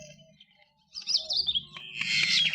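An injured sparrow, hurt by a ceiling fan, gives bursts of high chirps close by indoors, quiet at first and then rapid and insistent.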